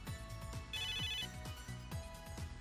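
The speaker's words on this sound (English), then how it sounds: "That's my in-gear's ringtone" An in-gear phone ringtone in a video game plays as a short electronic melody. It repeats in quick chiming pulses at a moderate, steady level, with no talking.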